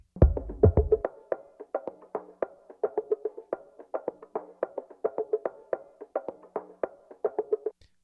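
Drum loop filtered down to its 389–700 Hz punch band, with low end cut after the first second: a steady pattern of sharp snare and percussion hits sounding thin and midrange-heavy, repeating for about eight seconds with no talk.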